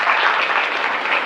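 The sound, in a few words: students applauding in class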